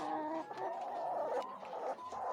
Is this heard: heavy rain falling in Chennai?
no